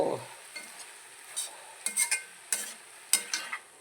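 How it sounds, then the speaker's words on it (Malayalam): Gooseberries roast in a hot pan while a spoon stirs them, giving a soft dry sizzle broken by several sharp scraping clicks that come in irregular bursts. The sound is close up and there is no talk. "നെല്ലിക്കയും കൂടി ഒന്ന് വറുത്തെടുത്താൽ ഇന്നത്തെ പരിപാടി കഴിഞ്ഞു"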